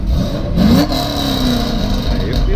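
A car engine with its exhaust baffles open gives a sharp rev that rises and falls, then settles into a rumbling idle, heard close and loud outdoors.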